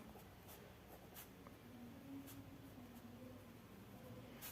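A pen scratching on paper while an accounts problem is written out by hand, faint, close strokes in short irregular bursts against a quiet, hissy background.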